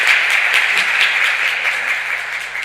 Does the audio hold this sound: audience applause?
yes